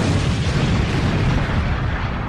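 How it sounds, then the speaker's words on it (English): A huge, roaring explosion from a Dragon Ball animated movie, loud and sustained throughout with a heavy low rumble and no voices over it. "A huge explosion is heard."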